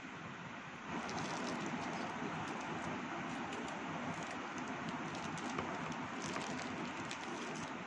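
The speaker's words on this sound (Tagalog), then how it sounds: "Lakas ng ulan." Heavy rain pours down in a steady, dense hiss that holds without a break from start to finish, loud and close, with no voices over it.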